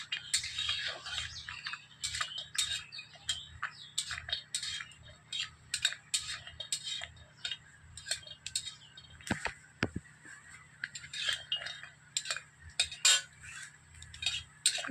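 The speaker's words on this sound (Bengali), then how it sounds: "সেই জন্য বড়িটা একটু হালকা ভাজে দিতে হবে।" Bori lentil dumplings lightly frying in oil in a wok, a steady close sizzle with repeated light metal clicks and scrapes from a stirring utensil throughout, and a couple of sharper knocks near the middle.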